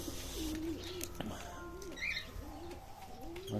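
Ornamental pigeons, including a black Pasha-type bird, coo inside an aviary, giving soft repeated low coos at a steady rhythm against a busy background with faint chirps.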